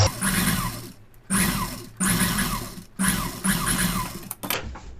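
Sewing machine stitching a lined pa-neck blouse, running in three loud, steady bursts of rapid mechanical whirring with short pauses between each seam pass.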